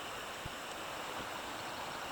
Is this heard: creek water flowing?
yes